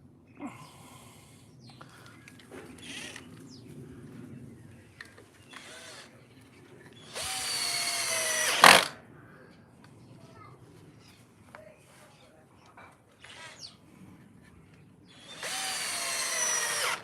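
A power drill drives screws into a wooden roof, two loud whirring bursts near the middle and end plus a sharp high peak, separated by quieter stretches of faint handling and background noise.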